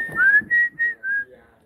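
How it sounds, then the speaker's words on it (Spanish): Loud human whistling at a birthday gathering: four sharp, close whistled notes in quick succession, the first rising and the rest held briefly, with no one speaking. "Chifla fuerte."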